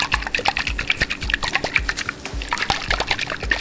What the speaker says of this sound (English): you just want to make sure you can actually hear water in it